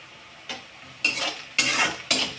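Onion frying in a pan while cooking chavali bhaji, with a low sizzle punctuated by three or four separate bursts of stirring and scraping, close and clear, without speech.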